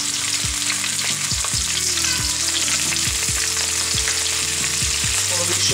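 Small onions sizzling in about a decilitre and a half of oil, a bright continuous frying hiss with a series of stirring scrapes and clinks, close and loud.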